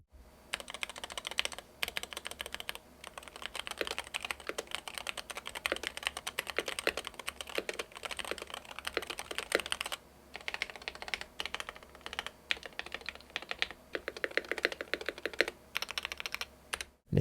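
Steady, fast typing on a Wooting 60HE mechanical gaming keyboard with foam dampening, dense clacking keystrokes close up with a couple of brief pauses, no voices.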